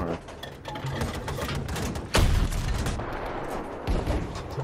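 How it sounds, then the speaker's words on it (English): Grenade blasts and rapid gunfire in a first-person shooter, dense continuous shooting with two heavy booms punching through, one near the middle and one toward the end. "Don't throw your grenades at me."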